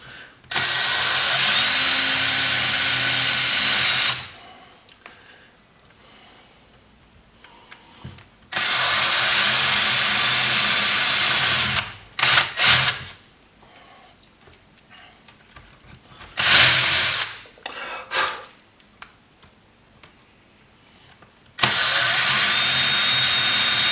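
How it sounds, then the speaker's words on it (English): Power drill boring holes into a workbench in several loud bursts of a few seconds each, separated by quieter pauses with faint handling noise. "I'm drilling holes in my bench."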